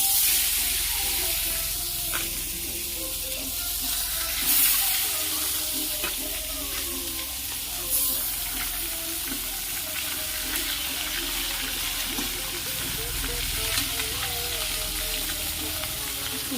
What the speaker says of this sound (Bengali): মাছগুলো আগে ভেজে নিচ্ছি দেখো তেল দিয়েছি কড়াইতে গরম হয়ে গেছে